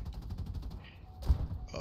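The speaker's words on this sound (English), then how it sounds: "We're going to give him a parting strafe." Rapid bursts of naval gunfire strafe a ship in War Thunder, a quick rattling volley of shots up close followed by a sharper single blast near the end.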